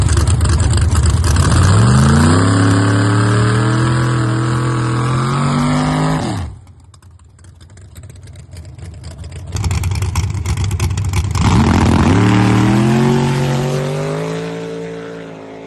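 Drag racing car making a pass, its engine loudly revving through rising gear shifts, dropping off abruptly, then roaring and climbing through the gears again.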